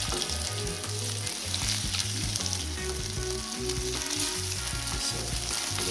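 Frozen vegetables, still icy, sizzle and crackle loudly in a hot pan while being stir-fried, a dense continuous frying hiss with stirring scrapes throughout.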